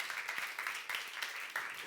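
Church congregation applauding during a youth service sermon, a quiet, somewhat distant patter of clapping with uneven surges, brief and soft.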